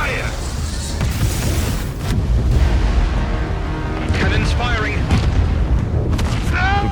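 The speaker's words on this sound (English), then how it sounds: "Commence fire. Commencing fire. Cannons firing." Heavy cannon fire booms steadily from a warship in a Japanese single-player action video game, the deep rumbling blasts continuous and loud beneath dramatic music and bursts of radio chatter.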